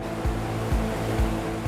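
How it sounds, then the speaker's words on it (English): A mechanical water spray fires toward a motorway bridge being demolished for scrap, a continuous rushing hiss with a low rhythmic pulsing thump repeating roughly every half second. "To stop the dust spreading, a mechanical water spray is fired towards the bridge."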